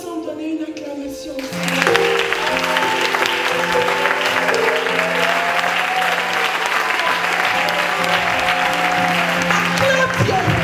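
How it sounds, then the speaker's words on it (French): A church congregation at a pastor-led service breaks into applause, rising suddenly from quieter sound into sustained, loud clapping from many hands, with voices and musical tones sounding beneath. "Est-ce qu'on peut ensemble donner une acclamation?"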